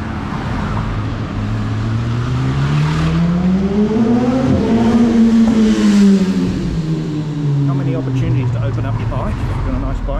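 A car engine rises and falls in pitch as it passes on a Bangkok street, with a steady wash of surrounding traffic noise and a voice talking over it.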